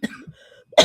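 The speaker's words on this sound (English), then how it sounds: "I'm coughing." A person coughs during a live broadcast: a short cough at the start and another sharp, loud burst at the end, with a faint throaty hum between them.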